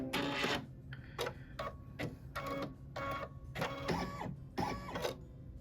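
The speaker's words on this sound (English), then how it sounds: "it's going to stitch for about a second" An embroidery sewing machine stitches with silver metallic thread on a quilt block, its rapid mechanical needle bursts starting and stopping in short clattering runs, close and fairly loud, with no talking.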